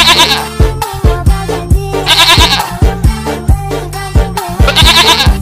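A goat bleats repeatedly over loud, rhythmic background music, the cries rising and falling in several bursts across the clip.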